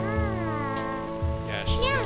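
A cat-eared girl character in Yandere Simulator gives a few short, rising meows over a sustained tonal game background, with a person talking alongside.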